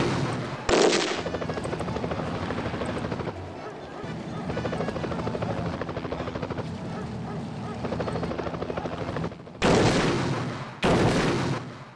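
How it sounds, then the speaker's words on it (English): An attack helicopter strikes a tank unit in the war strategy game Power & Revolution 2021, its rotor drone steady throughout, broken by loud bursts of gunfire and explosions near the start and end. "send a helicopter to destroy that tank unit"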